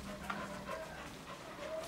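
A dog makes faint, distant yips and whimpers with some panting on a balcony during a gathering of several dogs, quiet and intermittent over a low background.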